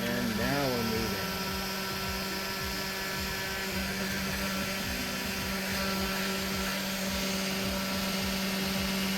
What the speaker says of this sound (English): Now we should be able to start our spindle and hit begin, and now we're moving.